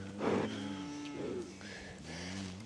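A mother cow with a young calf moos repeatedly at a stockyard, three long, loud, close lowing calls with a pause between each, against steady outdoor background noise and no talking.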